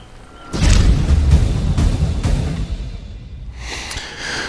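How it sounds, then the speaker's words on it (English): Single shot from a CZ 52 pistol in 7.62x25 Tokarev at a range, a sharp loud boom with a long decaying tail, followed by faint handling noise. "I think that I'll give Graham the honors of first shots"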